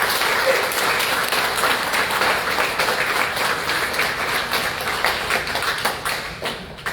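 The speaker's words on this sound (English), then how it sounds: "Please let's give them a round of applause." Sustained applause from a middle school audience at an outdoor Liberty Tree dedication, a steady dense wash of clapping for the exceptional education class that holds for about seven seconds and tapers slightly at the end.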